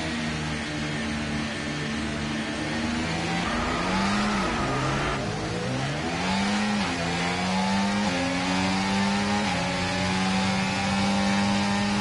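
Several F1 race cars rev their engines at the start in F1 24, high whining engine notes rising and falling in pitch as they accelerate and shift, loud and steady with overlapping cars, no voices.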